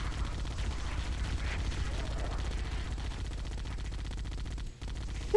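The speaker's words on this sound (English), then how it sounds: "Oh my god, even the turret sounds different in the new graphics." Turret fire in Halo: Combat Evolved, a dense, steady stream of rapid mechanical shots held at an even level for several seconds, briefly dropping out near the end before resuming.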